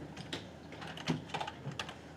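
Someone types on a computer keyboard, a short run of separate, irregular clicks and taps at close range with no talk over them.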